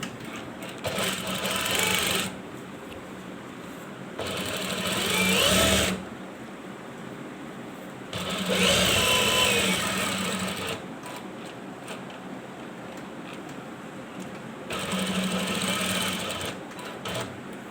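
Sewing machine stitching a two-piece shirt collar with buckram interfacing, running in four separate bursts of rapid, even whirring with quieter pauses between them, close and loud with no talking.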